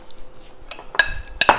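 Keto bread batter being mixed in a square dish for a microwave double batch: a few sharp clinks and scrapes of utensil against the dish, fairly close, with quiet gaps between.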